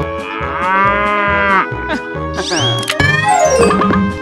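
A cartoon cow gives several drawn-out, loud moos with musical backing, part of a children's animal cartoon.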